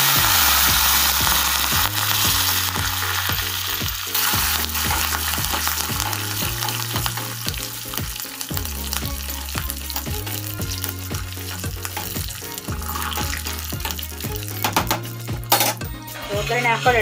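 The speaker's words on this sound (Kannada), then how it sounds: "ಒಗ್ಗರಣೆ ಹಾಕೊಳ್ಳೋಣ. ಒಗ್ಗರಣೆ ಹಾಕಿ ಮುಚ್ಚಿಬಿಡಬೇಕು." Cumin and curry leaves are tempered in hot oil for a potato and chickpea curry, giving a continuous sizzle with scattered metallic clinks of a pan and spoon over a steady rhythmic musical backing.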